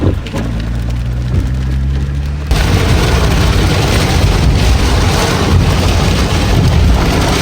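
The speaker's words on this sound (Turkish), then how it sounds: "Şimdi yağmurun altında gidiyoruz." Heavy rain heard while riding a courier delivery scooter in Warsaw, Poland; a dense, loud, steady hiss of downpour and wind rush that jumps up sharply partway through and continues unbroken.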